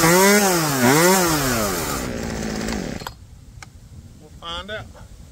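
A Poulan chainsaw with a replaced gas line revs loudly up and down, then cuts off abruptly, followed by a short quieter revving burst near the end.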